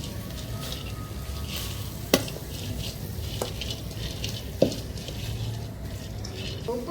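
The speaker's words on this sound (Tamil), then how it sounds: "அந்த புளியை போட்டு இப்போ வதக்கி எடுத்துக்கலாம்" Soaked tamarind sautéed in a pan for a chutney, giving a quiet, steady sizzle with soft stirring scrapes and a few sharp clinks of a utensil against the pan.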